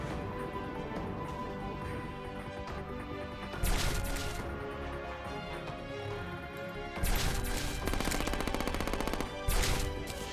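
Gunfire from a weapon in Terraria with the Calamity mod, loud and dense against steady game music, coming in several rapid bursts of overlapping shots.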